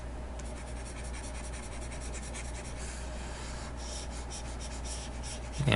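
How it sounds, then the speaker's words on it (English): An eraser rubs back and forth across a writing board in a steady, close scrubbing sound, ending with a louder brief swipe, with no talking. "I'm going to go ahead and erase this so I have some room to get everything in here"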